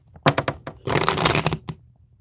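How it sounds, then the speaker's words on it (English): A few quick flicks followed by a fast riffling burst as a deck of cards is shuffled, close and brief. "Let me just shuffle."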